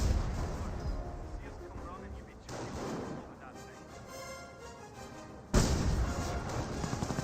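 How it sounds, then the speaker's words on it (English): Artillery barrage from a Hummel self-propelled gun in Company of Heroes, with repeated booming impacts and rumbling blasts spread across the clip, a loud burst near the end, under a commentator's ongoing talk. "50-pounder receiving a bit of Hummel barrage there."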